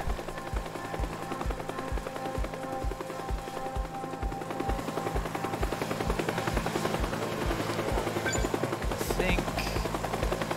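The Ghost Chopper helicopter in the game Teardown thumps with a steady, rapid rotor beat. The loud mechanical drone fills the scene, with a brief burst of gunfire-like crackle near the end.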